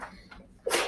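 A single sharp sneeze bursts out near the end after a moment of quiet, close and fairly loud.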